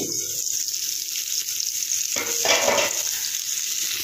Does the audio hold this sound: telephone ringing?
no